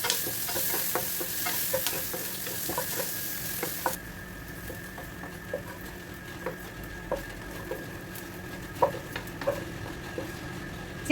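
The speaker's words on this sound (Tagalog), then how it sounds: "Maglagay tayo ng konting cooking oil, konti-konti lang. Next is yung hotdog. I-cook natin ng konti" Hotdogs fry in a little cooking oil, a steady close sizzle broken by frequent small pops and crackles, with occasional utensil taps in the pan and no voices.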